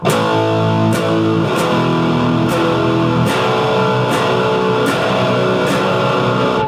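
Distorted electric guitar plays the chorus of a song with open-note bar chords, loud and dense throughout, with sharp strummed accents roughly every 0.8 seconds and no voices.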